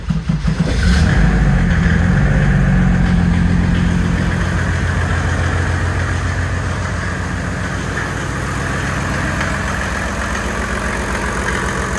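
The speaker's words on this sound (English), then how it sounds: "It makes less diesel knocky noises after it's warmed up." A turbo diesel engine swapped into a Datsun 240Z starts and idles cold, a loud steady low rumble with a rough knocking pulse, the close engine running alone without talk.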